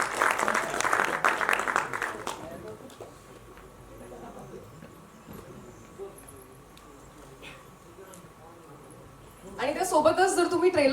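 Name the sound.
applause for the film's new hero and heroine at trailer launch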